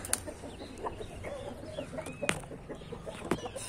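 An Indian Game rooster named Majestade gives a short crow on a hot day, with scattered clucks and chicken calls in the background of a farmyard.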